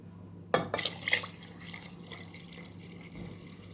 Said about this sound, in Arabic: هناخد المية اللي سلقنا بيها العدس ونحطها على الرز